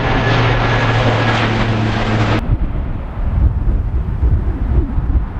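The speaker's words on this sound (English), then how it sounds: "Check out the size of this plane." Large airplane flying low over a busy motorway bridge, a loud broad engine roar and rush that cuts off abruptly partway through, leaving a rumbling wind-buffeted wash of traffic and air noise.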